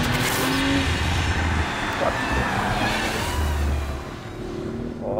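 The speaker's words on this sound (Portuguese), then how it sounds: "esse RS5 tem 450 cavalos" An Audi RS5 with 450 horsepower drives on a wet race track in the rain, its engine a low steady rumble under heavy tire spray and road noise, fading slightly toward the end.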